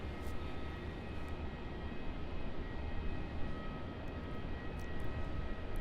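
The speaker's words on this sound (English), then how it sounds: "Beautiful, elegant departure there for the A350" Vietnam Airlines Airbus A350 jet departing Melbourne Airport, a steady distant roar of engines holding a broad, even rumble throughout, with no talking.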